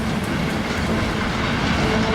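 A train rolls along the Trans-Siberian Railway, a loud, steady rumble of wheels and carriages with a faint rhythmic clatter, continuous and close, with no voices.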